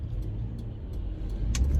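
A 2009 Honda Odyssey minivan being driven, heard from inside with a steady low engine and road rumble that swells slightly near the end, plus a few faint clicks over the drone; no talking.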